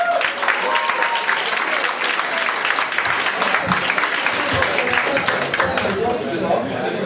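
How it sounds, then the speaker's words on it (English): A talk audience applauds a speaker on robot evolution, with steady, dense clapping filling the room for several seconds; a voice can be heard over the clapping. "I want a big round of applause for Evert Haasdijk."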